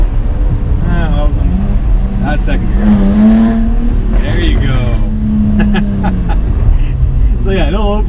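A 2019 Jaguar F-Type sports car accelerates hard in second gear, its engine note climbing loudly with rising revs and brief gear-shift breaks, heard from inside the cabin with someone talking over it.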